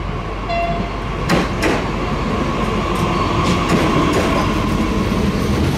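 A regional express train rolls into Caen station with a loud, steady rumble of wheels on rails, a few clanks and faint high brake squeals over the continuous noise.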